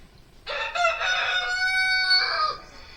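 A rooster crows once, loud and close, a single drawn-out call lasting about two seconds, heard alone with no talk.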